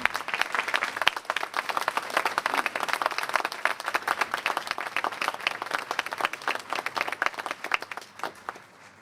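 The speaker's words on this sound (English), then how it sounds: "Please give a round of applause for all of our master's graduates" A ceremony audience applauds master's graduates at a 2025 humanities, arts and social sciences advanced degree ceremony, with dense, steady clapping that carries on throughout and thins slightly near the end.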